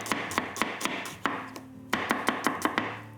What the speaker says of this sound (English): So I've got my tri-coloured capsicums here. I've got red, green, and yellow. I'm just gonna slice them